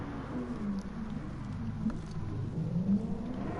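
An M1 Pro race car in the video game Project Cars 2, its engine droning and revving at moderate level with small rises and dips in pitch, steady and unbroken, no talking over it.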